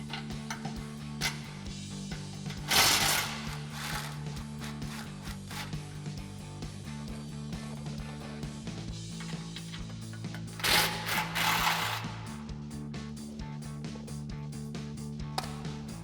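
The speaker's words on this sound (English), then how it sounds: "we're gonna take these 2 bolts and we're gonna remove them with a swivel socket and a 14 millimeter socket" A ratchet with a swivel socket and 14 mm socket loosens the tailpipe bolts on a 2022-2024 Toyota Tundra Borla ATAK exhaust, giving steady clicking and mechanical rattling over a constant hum, with two louder metallic bursts.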